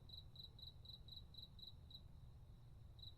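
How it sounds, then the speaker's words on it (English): Crickets chirp at night in a steady, evenly spaced series of high trills, about a dozen pulses, faint and alone over a soft low background hum. "the sounds of night birds and crickets"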